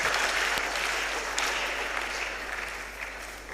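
Audience applause fills a hall at a national public speaking competition semi-final, a steady, dense clapping that holds for several seconds and tapers slightly toward the end.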